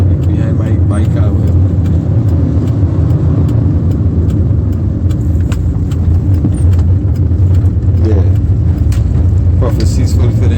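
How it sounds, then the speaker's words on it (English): A car interior while driving, with a steady loud low engine and road rumble throughout and a voice talking over the drone. "I'm driving right now"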